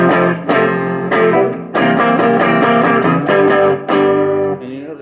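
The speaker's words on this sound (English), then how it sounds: "It's a little bit more muffled and a little bit more bassy than the lead circuit neck pickup." Squier Classic Vibe '60s Jazzmaster electric guitar on its rhythm circuit neck pickup, a mellow, muffled, bassy tone strumming a few separate chords, each ringing out briefly, close and fairly loud, no speech.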